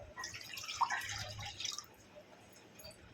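Water poured into a cooking pan for boiling, a short splashing trickle up close that fades out after about a second and a half.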